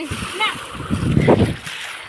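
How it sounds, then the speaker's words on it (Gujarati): Child splashing water in a farm field, a few close watery splashes mixed with voices talking over them. "એ પાણી ના ઉડાડ, ફોન ભીનો થઈ જાય"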